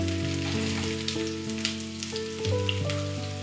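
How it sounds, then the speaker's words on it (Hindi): Gola kebabs frying in two to three spoons of oil in a large pan, a steady bright sizzle and crackle over a low hum, with occasional small pops and soft music in the background. "अब मैं इसे इसमें फ्राई करूंगी।"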